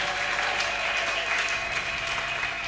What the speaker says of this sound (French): Acclamez le Seigneur. Betela kolo maboko